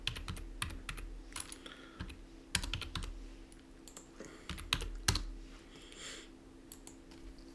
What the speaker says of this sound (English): So that can just go into our calculator so we can actually get that value.